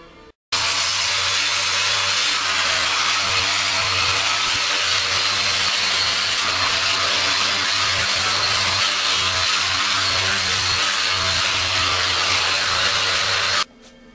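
A pointed power sanding tool working over motorcycle paintwork on a Yamaha FZR cafe racer restoration, a loud, continuous whirring hum that starts abruptly and runs for about thirteen seconds before cutting off, no talk.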